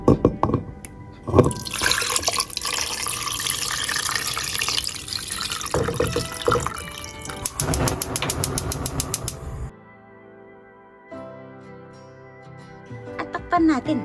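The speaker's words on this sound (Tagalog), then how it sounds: "Lagyan na natin ng tubig." Water pours from a tap into a cooking pot holding washed pork ribs, a steady splashing fill that runs for several seconds, then stops, followed by quieter kitchen clatter.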